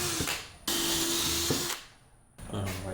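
A power drill drives 1 1/4 to 1.5 inch screws into a DIY LiFePO4 battery housing in a U-Haul box van conversion, with two loud whirring bursts separated by brief pauses and a quieter gap before a final burst.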